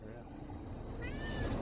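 A cat on a sailboat tied up to a barge gives a drawn-out, rising meow near the end, over steady low rumble and background noise.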